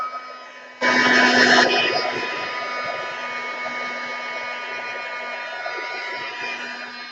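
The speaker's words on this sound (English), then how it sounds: "let me just blast that for a second with the heat gun" Heat gun blasting hot air over an art journal page, switching on abruptly with a loud whooshing roar, briefly stronger at first, then settling into a steady, continuous blowing drone.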